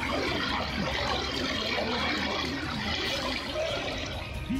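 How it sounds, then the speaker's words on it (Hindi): Fast-flowing floodwater near the Karam Dam, roaring in a steady, dense rush that never lets up, heard from a distance with no voices over it. "पानी की रफ्तार ही नहीं, उसकी आवाज भी डरा रही है।"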